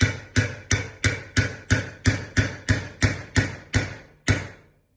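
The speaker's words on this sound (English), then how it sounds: "Ball peen hammer, anything that's small with a contact point will work." A ball peen hammer taps a pin into a Polarstar Kythera airsoft engine, about a dozen sharp, evenly spaced metallic strikes close by, each ringing briefly, with a longer pause before the final blow.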